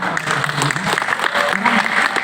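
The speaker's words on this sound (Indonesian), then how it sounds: "Kita berikan tepuk tangan untuk" An audience at an academic discussion on Formula E breaks into applause, a thick, continuous patter of many hands clapping at once, loud and close throughout the short stretch.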